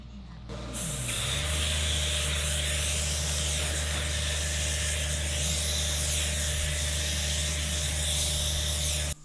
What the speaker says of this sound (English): with the right consistency to be able to spray it with a spray gun and a compressor